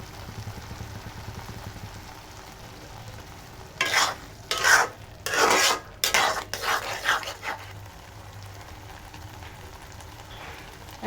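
Eggs cooking in a pan over a low flame, a soft background sizzle broken midway by several loud bursts of stirring and scraping, then settling back to the quiet hiss.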